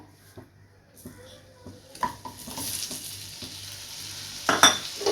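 Paneer cubes go into a pan of sautéed masala for a paneer gravy, landing with soft thuds and scraping stirs under a steady low sizzle, the clatter of a spoon against the pan growing busier toward the end.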